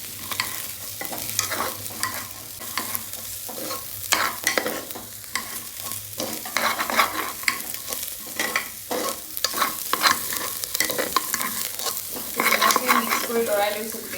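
Vegetable pulao with plain rice frying and sizzling in a pan while being stirred continuously, with scraping spoon strokes in a steady rhythm over a constant close sizzle; no talking.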